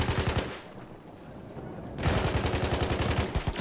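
Hellriegel submachine gun in Battlefield 1, two loud sustained bursts of rapid automatic fire separated by a short pause, close and dominant.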